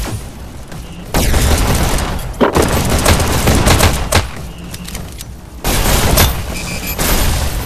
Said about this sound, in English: Someone's trying to shoot me.